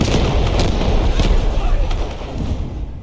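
SG-552 rifle fire in the Delta Force video game: a few sharp, loud shots crack over a dense, rumbling battle din that slowly fades toward the end.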